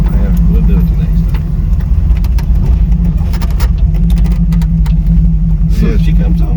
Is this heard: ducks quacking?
no